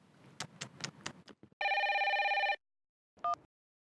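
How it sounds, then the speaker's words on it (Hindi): A landline telephone rings once in a long electronic trill, then gives a brief second chirp, following some muffled talk at the start. "लैंडलाइन पे फोन कर रही है"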